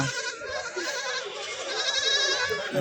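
Goat kids bleating at the Kadiri livestock market, a dense overlapping chorus of nearby bleats running throughout amid crowd noise.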